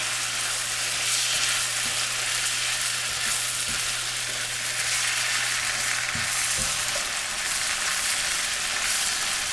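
Sausage and shrimp frying in a pan outdoors on a cold day, a loud continuous sizzle with a few soft knocks of stirring and no voices.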